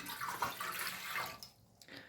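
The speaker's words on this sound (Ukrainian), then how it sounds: "По-перше, нам треба додати води, півтори чашки плюс одна столова ложка." Water pours steadily into a bread maker pan for the dough, a soft continuous splashing trickle that tapers off near the end, faint and close with no talking.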